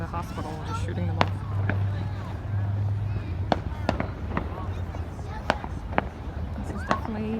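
Fourth of July fireworks launched from trucks parked around two hospital buildings pop off in a scattered series of sharp bangs, some distant and some nearer, over a low background hum while people talk nearby.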